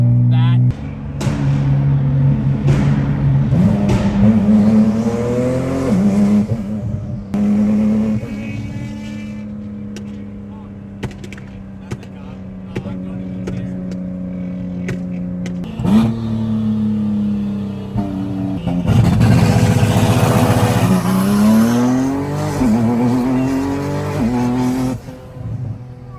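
A roughly 700-horsepower Nissan GTR race car accelerates hard through repeated gear pulls, its engine note rising in pitch and then dropping at each shift, loud and close, with people talking over it.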